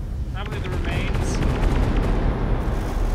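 Weapons in the Space Engineers video game fire in a dense stream of heavy booming shots over a deep rumbling bed, with a voice speaking over the gunfire.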